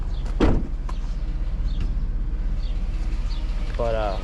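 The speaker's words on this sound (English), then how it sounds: "Let's use the sliding door." A sliding door at home rumbles open with a short, heavy scrape near the start. Steady background hum and faint outdoor sounds follow, and a brief warbling tone comes in near the end.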